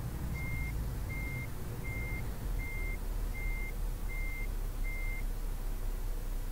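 Reversing alarm on an articulated truck with a trailer in Euro Truck Simulator 2, a steady run of seven evenly spaced high beeps over a constant low engine and road rumble.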